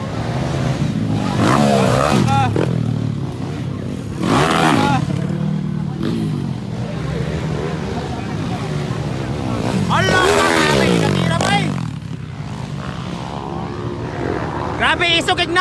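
Underbone motorcycles racing at a motocross event, engines whining past in repeated loud surges and fading between passes, with crowd noise and voices talking over the racket.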